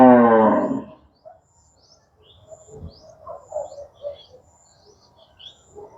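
A goat, one of a farm herd, bleats loudly once, a strained wavering call, then fades to faint bird chirps and soft rustling in the open air.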